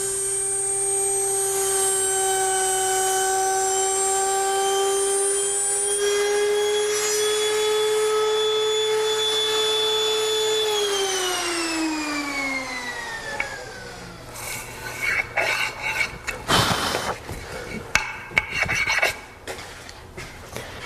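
A woodworking router makes a stop cut in wood, moving against a fence. Its steady high whine runs for about eleven seconds, then winds down in pitch and gives way to rough rasping and scraping bursts.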